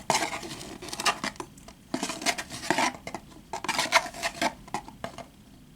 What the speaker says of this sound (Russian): Нужно взять 1 чайную ложку пищевой соды.